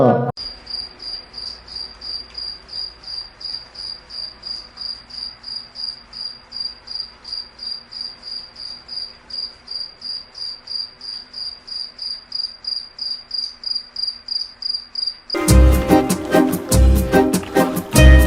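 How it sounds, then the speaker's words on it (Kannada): A cricket chirps in a fast, steady pulsing rhythm throughout, with a faint low hum underneath; a sudden burst of louder noise breaks in near the end. "ಆ ಕ್ರಿಕೆಟ್ ಅನ್ನೋದು ರಾತ್ರಿ ಮನೇಲಿ ಒಂಥರ ಸೌಂಡ್ ಮಾಡ್ತಾ ಇರುತ್ತಲ್ಲ"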